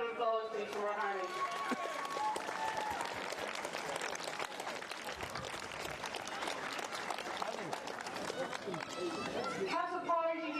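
A crowd at a junior championship final applauds the Raharney team, and the dense, sustained clapping and cheering holds steady for several seconds while voices call out near the start and at the end.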